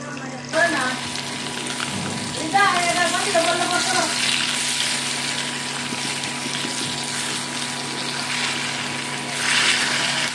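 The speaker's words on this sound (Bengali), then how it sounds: "সরিষার তেলে ভাজি করছি।" Fresh poli fish frying in mustard oil, a constant loud hiss and bubble of sizzling that continues throughout while someone talks briefly over it near the start.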